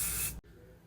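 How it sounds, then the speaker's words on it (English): A short, close burst of an IGK hair product sprayed onto hair, a bright hiss lasting under half a second and then cutting off to quiet room tone. "I'm going to spray a little bit of this on there too."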